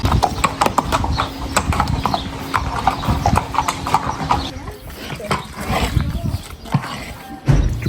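A horse walking on a couples' hiking and camping trip, steady close hoof clip-clops in a regular rhythm, with people talking over the hoofbeats.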